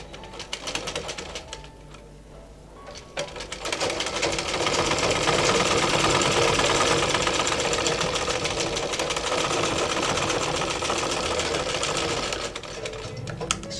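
A sewing machine runs steadily, stitching the shoulder seam of a dress, with a brief pause before a long continuous whir at close range. Pigeons coo faintly in the background.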